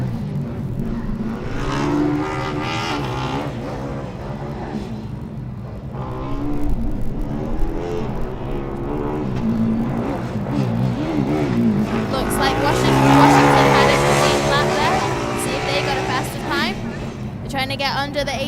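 Formula Student race car tearing through an autocross course, its high-revving engine rising and falling through gear changes and corners, loud and close, with a commentator talking over it throughout.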